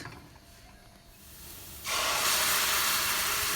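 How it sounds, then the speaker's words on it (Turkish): Green peppers in olive oil sizzle up suddenly partway through, a soft background hiss jumping to a loud, steady, close frying sizzle with no talk. "Sivri biberlerimizi kavuruyoruz."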